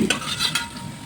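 Ginger, green chilies, curry leaves and sliced onions fry in a pan for a crab curry, with a brief close sizzle and a couple of stirring scrapes.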